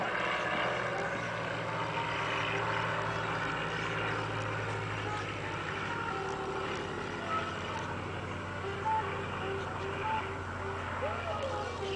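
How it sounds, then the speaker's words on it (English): A light airplane flying very slowly into the wind with flaps lowered, its engine a steady, continuous drone throughout, fairly loud and unbroken. "Watch how slow this airplane can fly"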